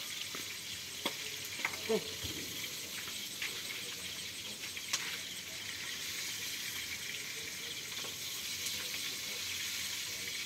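Fish frying in oil in a pan by a cook wearing a helmet, a steady broadband sizzle running throughout with a few sharper pops and crackles, fairly close.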